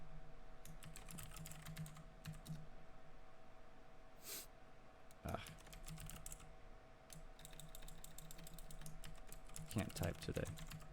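Clicking computer keyboard typing in quiet bursts of keystrokes, with a sniff or breath between them and a faint steady hum underneath.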